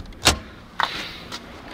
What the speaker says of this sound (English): Let's open the hood.